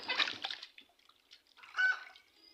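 Raw chicken meat rinsed with running water for a biryani: splashing and trickling in two short bursts separated by a quiet gap, heard close.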